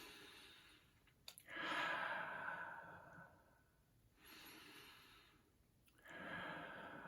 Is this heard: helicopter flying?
no